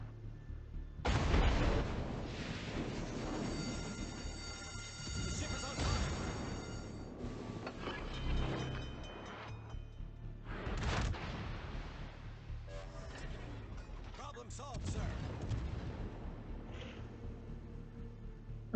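Naval gunfire in World of Warships as a Saint-Louis cruiser fires on angled battleships: repeated booming salvos and blasts roll through a dense battle din, with sharp reports near 1 s, 6 s and 11 s over a continuous rumbling background.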